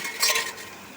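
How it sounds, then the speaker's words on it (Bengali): Fish fries in a pan, a short burst of bright crackling sizzle that swells briefly and then settles to a steady hiss. "মাছগুলো প্রথমে আমি ভালো করে ভেজে নিচ্ছি"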